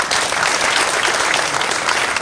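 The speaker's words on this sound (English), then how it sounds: "please give him a hand clap" A crowd applauds at a Rotary club handover ceremony, a dense, continuous roar of many hands clapping together with no pauses.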